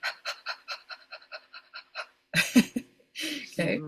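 A voice imitates a dog panting with about ten quick, rhythmic breathy puffs, followed by a brief spoken sound and another breathy exhale.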